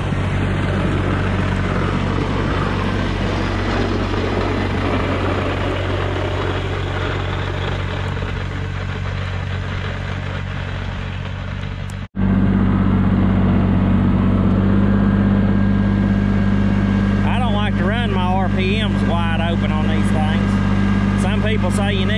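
A Kubota BX2380 compact tractor with a 5-foot rear blade plowing snow, its engine holding a steady, loud drone throughout with a brief drop midway while a person talks over it.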